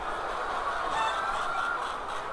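A crowd of chickens on a poultry farm makes a dense, continuous wash of clucking and squawking that stays steady and fairly loud throughout.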